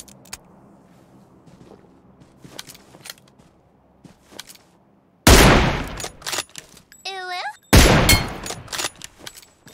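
Gunfire in the shooter PUBG Mobile: scattered distant single shots crack over a quiet backdrop, then two loud close bursts of rapid fire erupt, separated by a short mechanical whine.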